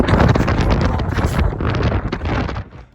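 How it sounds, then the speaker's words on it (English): Loud, continuous wind buffeting and roaring across the microphone on top of a bell tower, gusting steadily with no voices. "it's a wild and windy day up on the top of the bell tower"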